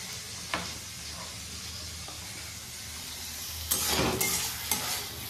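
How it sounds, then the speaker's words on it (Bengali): Salted potatoes frying in a pan, a low steady sizzle that swells into louder bursts of stirring and scraping near the end, close and without talk. "নুনটা দিয়ে নেই আলু ভাজাতে।"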